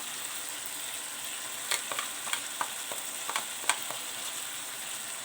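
Sweet and sour chicken stir-fry with minced pork and tomato ketchup is stirred in a hot pan: a steady sizzle runs throughout, broken by scattered clicks and scrapes of the utensil against the pan.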